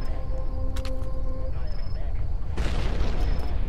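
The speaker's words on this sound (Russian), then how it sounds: "Какие-то взрывы происходят." Deep rumbling booms from explosions in the Roblox game Siren Head 2, with a tonal electronic hum at first, then a louder burst of noisy blasts near the end.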